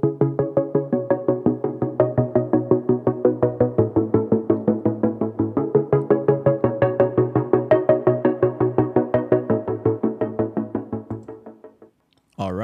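Melody first played on piano, now doubled on a trance-style chord synth for a Kompa and Afrobeat production: a steady, loud stream of stacked, rhythmically pulsing chords that runs about twelve seconds, cuts off, then briefly resumes.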